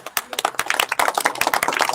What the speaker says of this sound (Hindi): एक मिनट में ताली तो बजा दी।